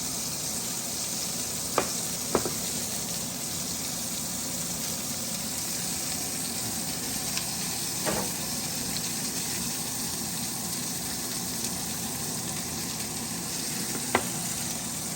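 Two onions sizzle on a hot grill for bean burgers, a steady, loud hiss of frying that runs unbroken, with a few sharp clicks or taps scattered through it.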